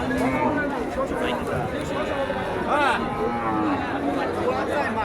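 Cattle low and moo amid a busy outdoor crowd at a livestock market in Alamdanga, Chuadanga, with people chattering and calling nearby throughout.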